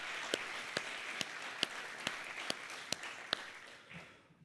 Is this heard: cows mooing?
no